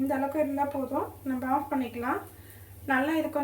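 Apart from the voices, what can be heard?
None of the usual background noises is heard.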